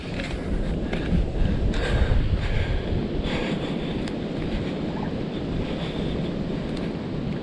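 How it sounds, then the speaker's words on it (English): Surf rolls onto a South Carolina barrier island beach after Hurricane Ian, a continuous roaring wash of breaking waves mixed with gusty wind buffeting the microphone. "Ooh, I can hear the beautiful sounds of the ocean already."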